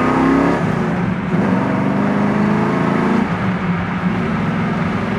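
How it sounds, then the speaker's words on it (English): A 1976 Chevy Camaro's exhaust roars steadily from inside as the car pulls through the gears with mild shifts around 3,500 RPM, a loud continuous engine drone with no talk over it. "It's got such a good sound in the exhaust."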